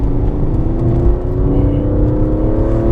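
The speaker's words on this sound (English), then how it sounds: "the system is basically coming down through the gears, deciding when it's going to downshift, and it's quite high in the rev" A car's automatic system downshifts through the gears under braking, the engine held high in the rev band with a loud, close, steadily rising whirring drone and no talk.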